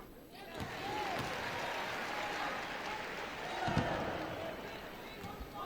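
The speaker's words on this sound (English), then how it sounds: "Kiki gets a good round of applause from the Gamecock fans" Gamecock fans give a round of applause at a women's college basketball game against Appalachian State, a steady, distant wash of clapping filling the arena under a commentator's voice.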